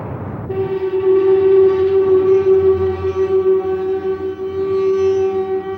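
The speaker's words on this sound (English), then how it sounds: "An attractive magnetic levitation train that works on a set of electromagnetic principles distinctly different from the Japanese repulsive levitation technology." Transrapid 05 magnetic levitation train runs with a loud, steady tonal hum that starts abruptly and holds a droning pitch with layered harmonics, close and dominant.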